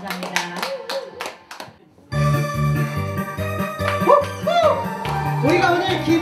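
Audience applause at a year-end gathering of a music club, a burst of clapping that starts sharply after a few spoken words and continues steadily under music and a voice.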